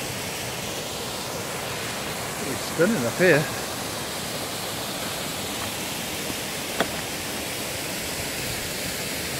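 A waterfall near an old slate quarry on a mountain walk gives a steady, broad rushing roar that runs throughout, with a brief voice cutting in partway.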